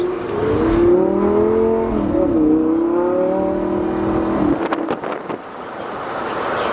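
A Lamborghini with a VF Engineering upgrade, running in automatic mode, revs steadily as it climbs and shifts up through its gears, the engine note dropping briefly at each change before a whirring fade; loud and close, with no talk.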